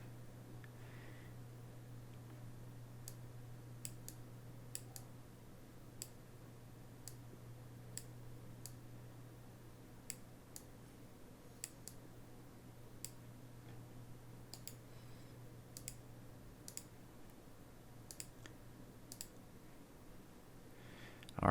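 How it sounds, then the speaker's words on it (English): Computer mouse clicks, sharp faint taps scattered irregularly across a long stretch, close by over a quiet steady hum, no talking. "So if you click on these, you can change those to outputs."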